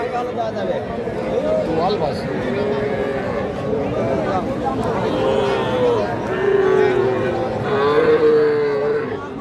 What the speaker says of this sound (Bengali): এটাও একটা বকনা বাছুর।